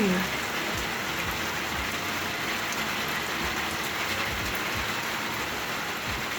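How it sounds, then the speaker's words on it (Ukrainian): Steady warm summer rain falls continuously, a dense even patter with scattered drops tapping nearby. "послухаємо незвичайну музику дощу"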